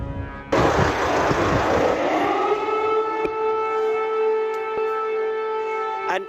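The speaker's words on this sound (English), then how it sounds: "An air raid siren over Kyiv." A civil defence air raid siren wails over Kyiv, starting abruptly with a loud rising tone that settles into a sustained, steady harmonic drone with no voices.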